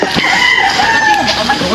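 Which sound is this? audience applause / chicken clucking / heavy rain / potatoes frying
chicken clucking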